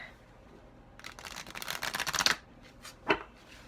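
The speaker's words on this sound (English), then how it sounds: "I'm going to be shuffling all decks live in these videos today" A tarot card deck being shuffled close up, with a quick run of riffling flicks followed by a single sharp card snap, alone in a quiet room.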